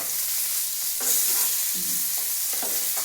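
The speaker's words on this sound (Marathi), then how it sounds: "1 मिनिटानंतर माशांचे तुकडे पलटी करायचे" Rice-flour-coated river fish pieces fry in hot oil in a pan with garlic, a loud steady sizzle up close, broken by scraping clinks as the pieces are flipped.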